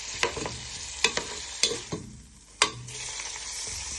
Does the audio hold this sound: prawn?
yes